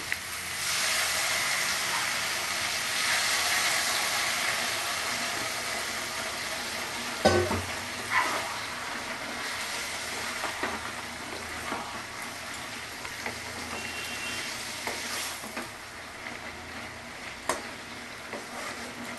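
Water poured into a pan of frying potatoes for a Bengali raw jackfruit and prawn curry gives a loud, steady sizzling hiss that eases slightly over time, with a few scattered stirring scrapes and knocks and no talk.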